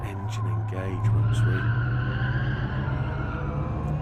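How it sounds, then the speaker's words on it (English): A racing car engine under throttle in a sim racing time trial gives a steady, droning hum that holds throughout, with someone talking over it. "Listen to that engine engage"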